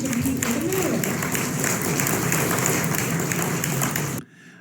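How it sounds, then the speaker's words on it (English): Audience at a televised political debate on immigration breaks into sustained applause, a broad dense wash of clapping from a sizeable part of the crowd that runs steadily for about four seconds and then cuts off abruptly. "A fairly nice size part of the crowd gave some claps there."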